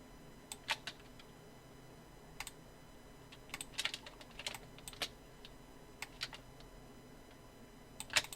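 Computer keyboard typing with shortcut key presses while drawing ellipses in illustration software: scattered sharp clicks in small bursts, faint and close, with no talking.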